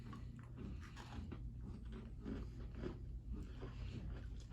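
Someone chews a gluten-free Oreo cookie up close, with soft, repeated crunching and mastication sounds in a quiet room at low volume, and faint murmurs of talk in the background.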